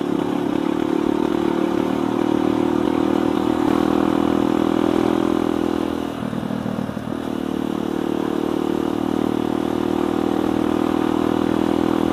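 A carbureted motorcycle engine pulls hard in fifth gear on a ride toward Puncak Bogor, a loud, steady droning roar that dips briefly before surging again, with no talking.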